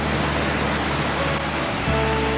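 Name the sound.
waterfall beside riverside restaurants in Kibune, Kyoto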